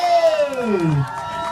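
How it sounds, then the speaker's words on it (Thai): A football crowd cheers and shouts at full time, a long falling whoop sliding downward over the steady roar before the noise eases slightly. "ขอเสียงปรบมือ"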